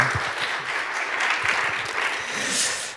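A church congregation at a Korean youth worship service claps steadily for a few seconds, a dense, even patter of applause that fades slightly at the end.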